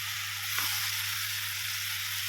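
Olives being fried in a pan for an Assamese olive pickle, a steady soft sizzle of hot oil with a constant low hum underneath, close and continuous with no talking.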